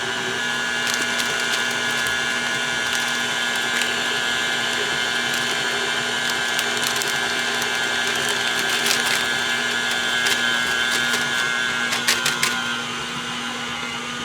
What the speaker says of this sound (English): The mix has got to get turned up. And we got to beat it till it's all incorporated.